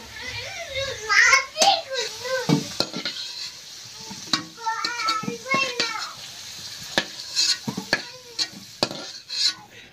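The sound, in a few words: potatoes frying in oil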